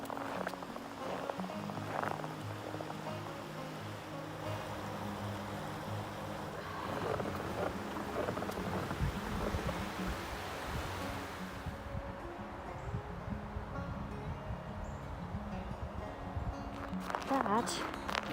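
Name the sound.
traffic noise from Interstate 81 overhead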